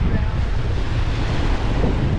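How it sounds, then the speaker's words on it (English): Heavy wind buffets the microphone in a dense, low rumble on a west-facing beach of hard, compact sand on Marco Island, Florida, with the wash of Gulf waves blended into the roar throughout. "it's kind of windy"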